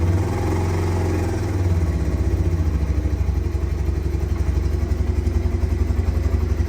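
A 1987 Kawasaki Bayou 185 ATV engine runs steadily close by after starting, with a throbbing low putter and mechanical clatter that grows slightly rougher and more pulsing partway through, with no talk over it.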